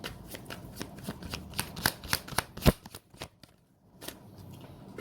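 Tarot cards shuffled by hand in a series of crisp riffling slaps and flutters, close and fairly loud, a sharp snap midway, then quieter handling; no speech.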